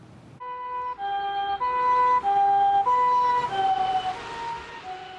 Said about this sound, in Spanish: cuando oyes el sonido de una ambulancia